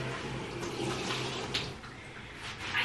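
Water runs steadily from a tap while a cat is bathed, a soft continuous splashing wash at moderate distance with a few small splashes and no talking.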